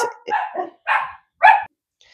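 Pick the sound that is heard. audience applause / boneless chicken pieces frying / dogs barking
dogs barking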